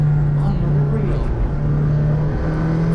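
A 2018 McLaren Senna engine drones loud and steady from close range, a constant low hum with slight shifts in pitch, heard from inside the car as it is driven on a test run.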